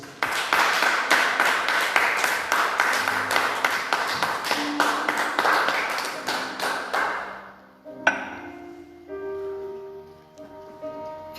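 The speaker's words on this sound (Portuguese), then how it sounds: "Uma salva de palmas para Jesus." Church congregation applauding together, a steady run of dense clapping for about seven seconds that fades out, followed by a few isolated taps and ringing tones.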